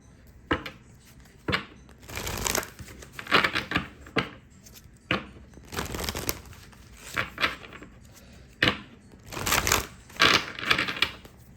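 A deck of tarot cards being shuffled by hand, with repeated close riffling bursts and soft card slaps in an uneven rhythm, no talking.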